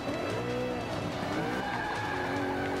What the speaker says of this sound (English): Hike, stop drifting through everything.